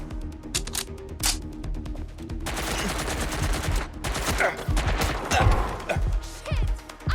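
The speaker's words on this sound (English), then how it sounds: "I'm getting shot at here." Gunfire in the Watch Dogs Legion video game: rapid bursts of shots and crashing impacts crackle continuously and loudly over several seconds, dense and close, with brief quieter gaps.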